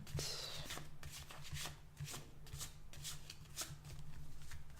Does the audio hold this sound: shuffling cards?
yes